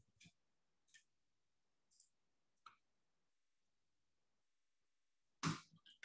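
Several sharp, faint mouse clicks land spaced apart in a quiet room while someone works through a deployment pipeline, followed by a louder rustle near the end.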